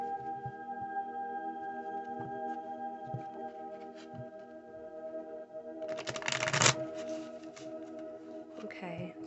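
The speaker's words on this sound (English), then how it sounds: "Apparently, we're having issues shuffling today." Tarot cards riffled and shuffled in a short burst, a soft papery flutter partway through, with a steady low hum and quiet handling sounds around it.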